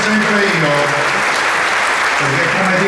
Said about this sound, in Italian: un saluto e un applauso a tutti i giovani della Lega e i giovani italiani